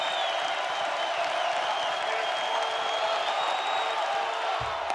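A college baseball stadium crowd at a Texas versus UC Santa Barbara game keeps up a broad, continuous roar of cheers and clapping, with occasional whoops rising from the sustained distant noise.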